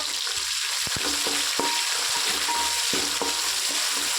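Thinly sliced onions, two of them, fry in a pan for a bachelor-style chicken pulao with a loud, dense, continuous sizzle close by, broken by several sharp knocks and scrapes of a stirring spoon.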